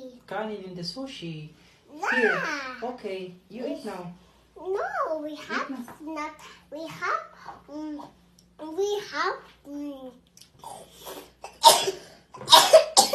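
A two-year-old boy sneezes sharply near the end of a mealtime exchange, after a stretch of adult talk and the child's chatter and coughs; the sneeze is close and loud.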